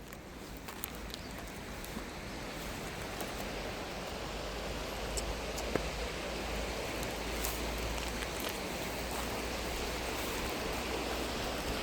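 A stream of water flowing steadily in Vedi, a continuous broadband rush with no talk, holding an even level throughout.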